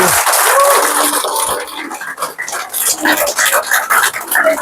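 Scattered clapping from a small group rises in the second half, mixed with background voices and room noise.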